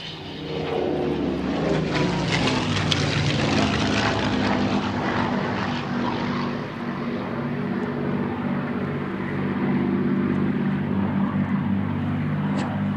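A Supermarine Spitfire Mk IX fighter, PL344, flies and turns at an air display, its propeller engine droning loud with a shifting, swelling pitch that falls away toward the end, no talk heard.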